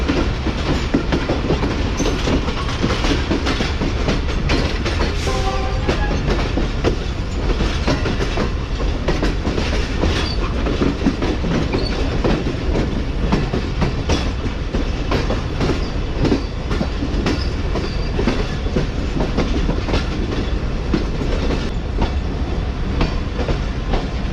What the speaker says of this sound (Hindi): ट्रेन हमारी ट्रैक चेंज करके प्लेटफॉर्म लाइन पर लगेगी।